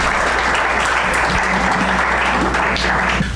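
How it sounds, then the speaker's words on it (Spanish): An audience at a medical lecture at the Universidad de Guadalajara applauds the speakers, loud, dense clapping that holds steady throughout with no pause. "les damos un aplauso por"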